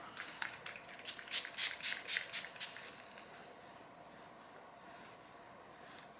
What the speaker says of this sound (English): So I spray some in and then scrunch it up.